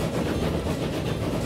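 A small train made of tiny cars with no caboose runs slowly through a Transport Fever EU map, rumbling and clattering steadily and loudly throughout.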